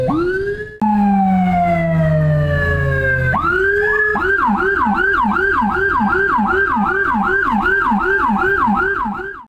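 An ambulance siren blares close and loud during an escort of a COVID-positive body, with a short steady tone and a falling wail before it settles into a rapid, continuous yelping cycle.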